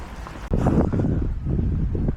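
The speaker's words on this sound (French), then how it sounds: "Oh là là, il y a plein de vent." Strong wind blows outdoors in a yard where horses are being moved, a loud, rough rumble buffeting the microphone with gusts that surge and hold.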